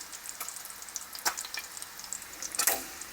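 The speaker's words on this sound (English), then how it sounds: "I'll turn the bacon over so it's crisping up quite nicely" Bacon crisps in a frying pan for a full English cooked breakfast, giving faint, scattered sizzling crackles and pops at close range, with a few sharper spits near the end.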